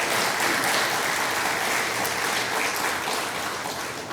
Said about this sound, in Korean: 우리 다시 한번 하나님 앞에 영광의 박수 올려드리겠습니다